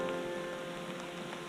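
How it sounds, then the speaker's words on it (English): Steady light rain patters on surfaces at a reservoir campsite, a soft, even hiss with faint scattered drops, quiet and continuous. "This rain doesn't appear to be stopping, though it has let up quite a bit."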